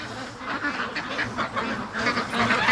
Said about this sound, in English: look at that poor little duck